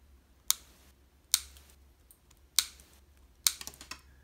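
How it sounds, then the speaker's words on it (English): Four crisp, separate scissor-like snips of wire cutters trimming the petal ends off a wire-wrapped Viking knit chain, close and clear against a quiet background. "you can actually go ahead and snip off the pedal section"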